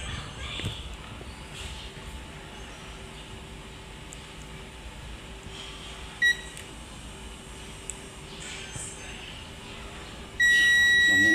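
A continuity tester buzzer sounds steadily and loudly near the end while a Panasonic inverter refrigerator's compressor wiring is probed, preceded by quiet room noise and a couple of brief faint beeps.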